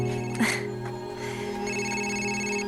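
A telephone rings steadily in a domestic room, its repeated electronic bell tone filling the whole stretch at moderate level with no talk over it.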